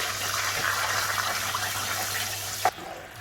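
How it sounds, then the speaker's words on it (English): Water is poured into a pan of caramelized pork belly for red braising, giving a steady rushing splash close by. It runs evenly for over two seconds, then ends in a sharp clink and a quieter sizzle. "So now I have to add the 150 mils of water."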